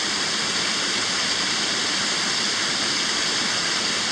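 A small creek in an early-autumn forest rushes steadily, a loud, continuous broadband wash of flowing water with no voices over it.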